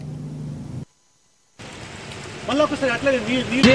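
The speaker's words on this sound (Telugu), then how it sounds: "5 రోజుల నుంచి వర్షం పడుతూనే ఉంది" Steady hiss of monsoon rain falling on farmland with stored grain, briefly cut to silence, then returning with a voice talking over the downpour.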